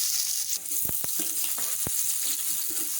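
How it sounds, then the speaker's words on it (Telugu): Sliced onions with green chillies and cumin frying in hot oil for a Telugu fish curry give a soft, steady sizzle, with a few sharp taps of a spoon stirring the pan close by. "ఈ ఆనియన్స్ అన్నీ కూడా కొంచెం ఫ్రై కావాలి"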